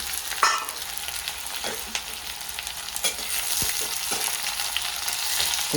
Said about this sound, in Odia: ଆଉ ଏବେ ପିଆଜ ପଡ଼ିବ। ପିଆଜ ପଡ଼ିଗଲା।